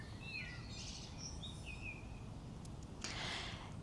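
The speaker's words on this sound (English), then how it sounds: "You can hear the birds." Birds sing in the countryside: several chirps and whistled song phrases, mid-distance, over a steady broadband background hiss, with a brighter burst of calls near the end.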